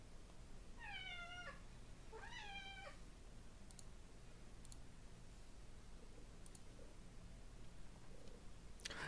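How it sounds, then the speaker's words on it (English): An indoor cat, annoyed at being kept inside, lets out two drawn-out meows in quick succession, faint and close, followed by a few soft clicks over quiet room hum. "the cat is so pissed off that I'm not letting it outside"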